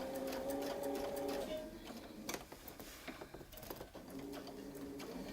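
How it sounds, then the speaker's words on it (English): A sewing machine runs in fast, even stitching bursts while following a quilting template, pausing midway with clicks and handling noises before the motor whirs again. "All we're doing is moving the template, lining up that reference line, stitching around."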